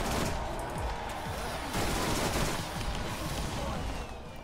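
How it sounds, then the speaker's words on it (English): Rapid rocket launcher fire in Borderlands: a dense, continuous barrage of overlapping launches and blasts at moderate level, with no talk over it. "The insane fire rate I'm putting out right now with the rocket launches is."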